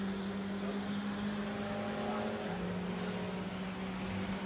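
Lotus Cortina race car at Road America during a Group 2 race, a steady engine drone heard from a distance with its pitch dropping slightly as it goes past, under faint background noise.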